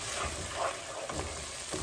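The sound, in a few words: masala with tomato ketchup roasting and sizzling in a pan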